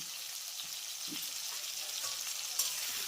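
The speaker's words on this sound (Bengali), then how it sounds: "আমি এর ভিতরে অ্যাড করব কেটে রাখা পাকা টমেটোটা তেলের সঙ্গে একবার নেড়ে চেড়ে দেবো" Chopped ripe tomatoes frying in hot oil while being stirred, with a continuous soft sizzle and a few faint scrapes of the spoon, close and fairly quiet.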